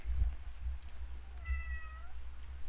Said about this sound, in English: a kitten just meowed really loudly